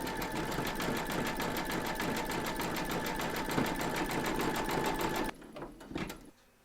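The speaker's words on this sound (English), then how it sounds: "You're now going to stitch round number 8, and that's going to zigzag all the raw edges of both the statue and of the plinth." An embroidery machine zigzag stitching over the raw applique edges of a Statue of Liberty figure and its plinth, a rapid, even needle chatter running steadily for about five seconds close up, then a few brief mechanical clicks as it stops.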